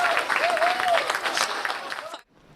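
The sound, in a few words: applause and cheering at Blue Ghost lunar landing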